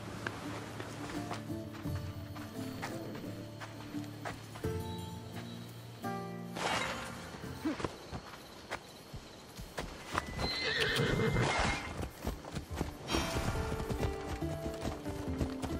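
Horses ridden in Assassin's Creed Odyssey give a steady clip-clop of hooves with snorts and a whinny, close and moderately loud, joined by music and a stretch of louder galloping later.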